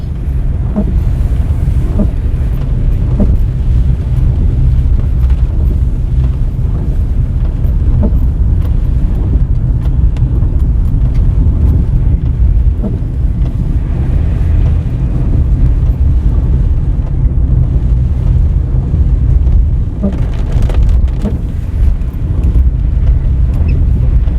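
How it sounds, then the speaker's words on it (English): Strong gusting wind from Tropical Storm Zeta buffets the microphone in Southfield, St. Elizabeth, Jamaica, a steady low roar with a constant rumble like moving water or an engine underneath. "it's a bit windy"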